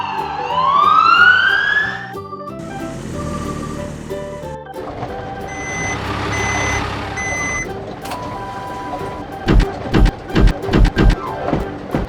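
Toy black police car siren: an electronic rising wail, then steady beeping tones, followed by a series of sharp clicks and knocks as the plastic toy is handled.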